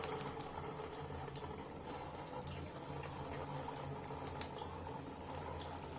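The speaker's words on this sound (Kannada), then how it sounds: "ನಾವು ಮಾಡ್ಕೊಂಡಿರೋಂಥ ಬ್ರೆಡ್ ರೋಲ್ನ ಎಣ್ಣೆಲಿ ನಿಧಾನವಾಗಿ ಈ ಥರ ಹಾಕೊಳ್ಳೋಣ." Bread rolls are lowered into hot oil for deep frying, giving a steady, close bubbling sizzle with a few faint clicks and pops scattered through it.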